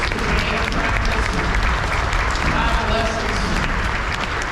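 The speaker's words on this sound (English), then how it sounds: "Big round of applause for those." An audience at a high school honor band concert at Reinhardt University gives a full, steady round of applause for the parents, dense clapping from a large crowd filling the room.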